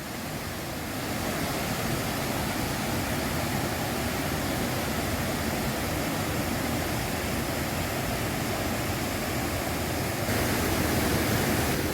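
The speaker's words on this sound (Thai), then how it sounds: "เห็นข้างหน้า คือน้ำตกชั้นที่สาม" Rushing water pours steadily in a dense, unbroken wash of white noise, like a waterfall nearby, with no voices; the third tier of Namtok Chet Sao Noi waterfall, Thailand.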